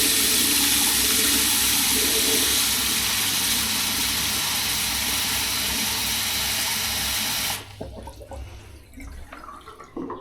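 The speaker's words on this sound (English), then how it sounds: "Have I not actually turned the water off?" Water rushes steadily from the pipes while draining during a stripped-out ensuite bathroom renovation, a loud continuous hiss that cuts off abruptly near the end and leaves faint knocks and room noise.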